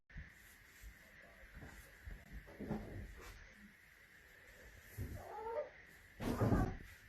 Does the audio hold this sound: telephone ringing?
no